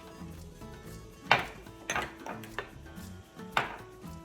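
A utensil stirs garlic and thyme seasoning for garlic butter shrimp in a pan, producing a few close, distinct clinks and scrapes against the metal at irregular intervals over a quiet background.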